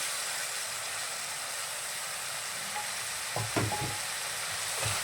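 A steady hiss of vegetables sautéing in a hot pan, with a few scraping stirs of a utensil near the end.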